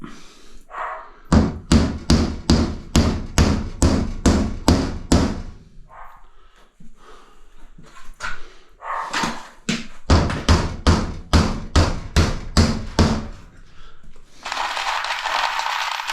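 Rapid hammer blows drive nails into bathroom wall sheeting, close and loud, in two quick bursts of about ten strikes each with a short pause between, then a rustling noise at the end.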